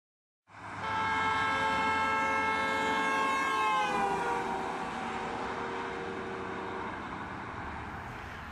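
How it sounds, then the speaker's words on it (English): A speeding car sounds its horn as it drives past on a roadside, a loud sustained blare whose pitch drops sharply midway as the car passes, showing the Doppler effect, then continues lower as it recedes. "As the car passes me, it's going to blow its horn."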